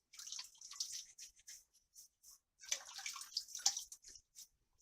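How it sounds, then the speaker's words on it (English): Water splashed by hand from a sink onto the face while shaving with a double-edge safety razor, heard as close, irregular wet splashes and drips that come in bursts with short pauses. "put some water on your face"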